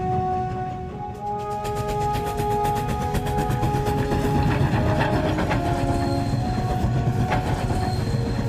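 A freight train hauled by QJ steam locomotives climbs a steep mountain grade, its steady rolling rumble and rhythmic wheel clatter running loud and continuous throughout, with no voices.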